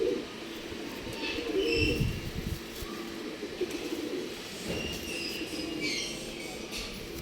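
Pigeons coo softly and repeatedly at a pigeon sale in RT Nagar, Bangalore, with low murmuring calls over a busy background of ambient noise and occasional chirps.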